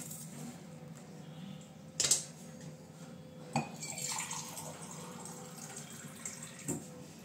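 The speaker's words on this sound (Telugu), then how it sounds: "వాటర్ వేసేస్తున్నా." Water poured into a cooking pot of chopped spinach and fenugreek leaves with dal, a steady low splashing stream with a couple of brief clinks of utensils against the pot, close by and moderately quiet.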